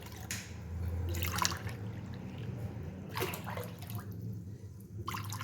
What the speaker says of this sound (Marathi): आता याच्यामध्ये मी माठातलं पाणी घालून घेते